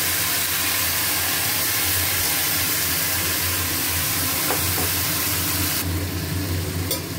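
Mutton being fried and stirred for kosha in a pan after onions and potatoes, a loud steady sizzle and hiss throughout with faint scraping of the spoon.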